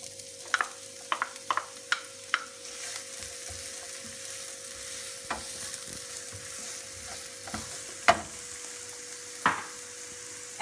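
Onions frying in olive oil in a pan previously used for eggplant, giving a steady broadband sizzle with occasional sharp pops and crackles throughout, fairly quiet and with no voices.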